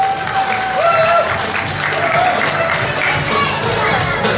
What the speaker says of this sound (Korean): 여러분 뜨거운 박수 보내주시기 바라겠습니다.